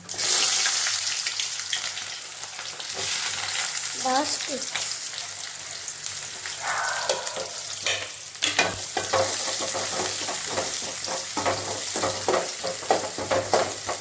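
Onions fry and sizzle in a pan while being stirred, with scraping and clattering spoon strokes throughout, steady and close, brief water-like splashes mid-clip.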